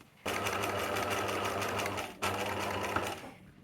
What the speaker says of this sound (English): so now top stitch this part here, and then we're gonna close it